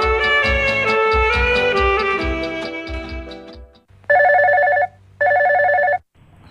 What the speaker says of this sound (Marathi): ऐकूयात पहिला फोन कॉल